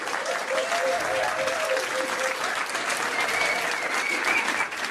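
Applause from a pub crowd at a trivia quiz night at The Granta as a team comes up to the front, dense sustained clapping throughout with a voice speaking over it.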